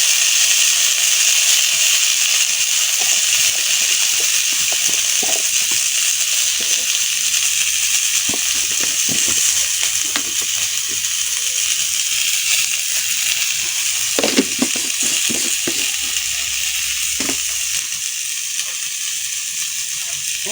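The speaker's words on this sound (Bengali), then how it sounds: "এখন আমি দিয়ে দিচ্ছি আলুগুলো, রাখা আলুগুলো।" Potatoes are added to a pan of hot oil for a potato and rohu fish dish, raising a steady loud sizzle with a constant hiss, broken by brief clattering stirs and no talk.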